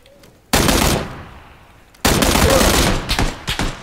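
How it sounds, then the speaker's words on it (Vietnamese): An AK rifle in PUBG Battlegrounds fires two loud, close, rapid automatic bursts separated by a short pause, followed by a few scattered shots. "Bắn AK"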